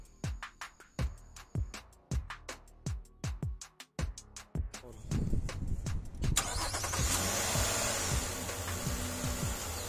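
A 2021 Nissan Murano V6 starting: a rapid series of sharp starter cranks and clicks, then the engine catches and settles into a steady idle hum, close and loud.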